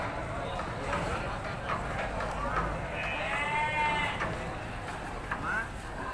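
Sheep bleat at a busy livestock market in Padalarang, West Bandung, with several calls rising near and far over constant crowd noise while someone talks.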